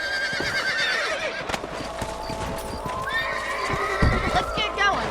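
Horses trot and whinny on a dusty ranch trail in the video game Red Dead Redemption, with steady clip-clop hoofbeats and repeated neighs under constant spoken dialogue and light background ambience.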